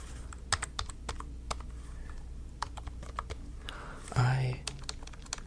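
Typing on a computer keyboard, quick irregular clicks and taps up close at a soft level, with a brief louder rustle partway through and no speech.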